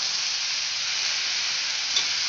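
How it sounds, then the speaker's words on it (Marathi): Tomatoes and onion sauté in a pan, giving off a steady, fairly loud sizzling hiss that stays even from start to finish with no talking. "टोमॅटो शिजेपर्यंत थोडं आपण आता हे परतवणार आहे."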